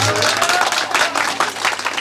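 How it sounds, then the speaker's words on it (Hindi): Listeners at a Hindi poetry recital give a short round of lively applause, a close, dense patter of many hands. "सुनाऊं तो एक बार ताली बजा दो तुम।"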